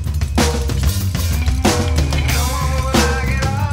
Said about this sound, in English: guitars are playing and they sound like this